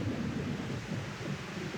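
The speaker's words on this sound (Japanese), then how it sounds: "ああ、ひでえ雨だぜ。" Heavy rain pours steadily with a low rumble of thunder beneath it, a dense, continuous wash of sound with no voices.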